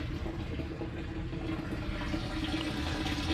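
Water gushes steadily from the enlarged drain valve of a hydroponics system, a constant close rush of flow with no voices.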